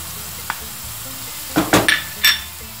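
Onions with green and red peppers and garlic frying in a pan, a low steady sizzle broken by a few louder scraping stirs near the end, no voices.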